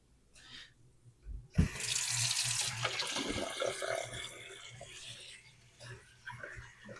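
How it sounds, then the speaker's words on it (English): Water runs steadily from a tap into a kitchen sink with splashing and rubbing as hands are washed, starting abruptly after a quiet moment and continuing for several seconds. "I'm about to wash my hands"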